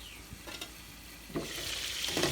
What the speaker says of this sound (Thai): จะกินทอดแหนมไม่ได้กินเหงเลย ทอดแหนมยั่วๆ